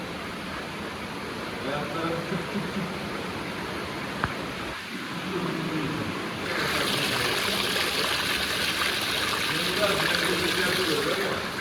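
Water falls into a pool inside Kaklık Cave, a steady splashing rush that grows louder and brighter partway through, with voices murmuring nearby.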